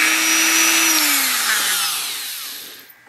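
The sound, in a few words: die grinder smoothing metal casting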